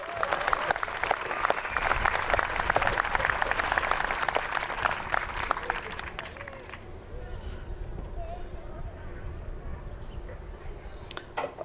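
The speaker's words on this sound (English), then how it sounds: "Big applause for them." An audience applauds the violin players at a summer chamber concert, a dense burst of clapping that cuts off after about six seconds, leaving faint room noise.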